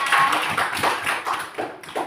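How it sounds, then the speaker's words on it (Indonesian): Children in a family-rules lesson clap their hands in a short burst of light, uneven claps lasting about two seconds, fairly close and without talk. "tepuk tangan dulu untuk kalian"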